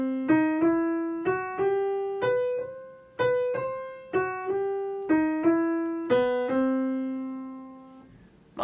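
Solo jazz piano plays short phrases, each line slipping up by a half step into its target note, in a steady swung rhythm with sustained chord tones.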